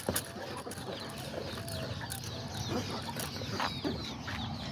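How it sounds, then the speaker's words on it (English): Miniature chickens, a mother hen with her little chicks, clucking and peeping softly and intermittently close by, with the faint bustle of the coop behind. "This is mom chicken, and then the little chicks right there."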